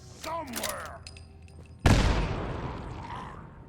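In the video game Fallout 4, a mine explodes in a sudden loud blast about two seconds in, its rumble trailing off over the following second, after quieter game sounds and a brief voice-like sound.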